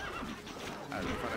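Horse neighing in the video game Stronghold: Crusader, a clear whinny with voices heard alongside, moderately quiet over a dense game soundscape.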